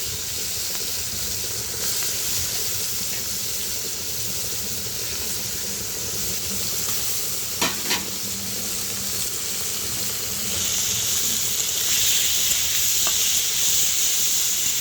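Shrimp fry in hot oil in a wok (kadai) after being rubbed with salt and turmeric, a steady close sizzle that swells louder near the end, with a brief clatter midway.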